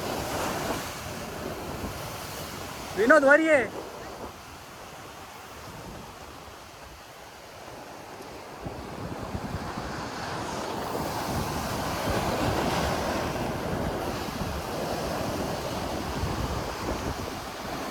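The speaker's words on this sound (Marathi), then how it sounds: "एवढ्या मोठ्या मोठ्या लाटा मारतात आता." Big sea waves crash along the Konkan coast where people are fishing, a steady, loud surf roar with wind, broken early by a brief shouted voice.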